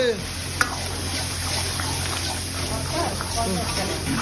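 Curry for eight plates being stir-fried in a large wok at a new restaurant: a steady, close sizzling hiss with stirring, while people talk over it in Bengali.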